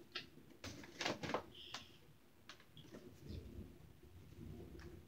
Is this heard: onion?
no